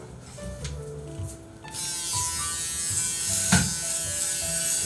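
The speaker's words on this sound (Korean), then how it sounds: "랄프가 면도기를 갖고 와" An electric razor buzzes close by in a café setting, a steady mechanical hum that grows louder partway through and runs continuously to the end, with a brief clatter midway.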